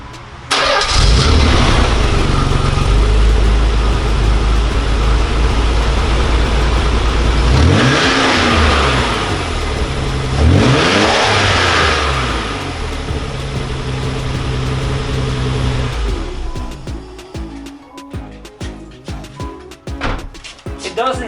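A Nissan 300ZX twin turbo with factory blow-off valves cranks and fires, then idles loudly up close. Two sharp revs climb and fall in quick succession before the engine settles back to a rougher, choppy idle.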